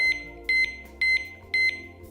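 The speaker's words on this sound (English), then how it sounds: "the key is turned to the on position and beeps 6 times to notify the user that it is alarmed" An ABUS motorcycle alarm disc lock gives short, high electronic beeps as it is armed, four evenly spaced double-pulse chirps close up with no talking.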